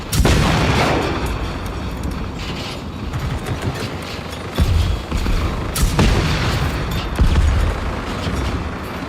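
Artillery bombardment in Generation Zero: heavy booming blasts land repeatedly, with a big opening impact and further explosions around the middle and end, amid mechanical clatter and rumble.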